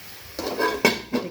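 A pan of pumpkin greens being stirred and covered, heard as a few soft metallic scrapes and a clattering knock or two from a utensil and lid, close and fairly quiet, without speech.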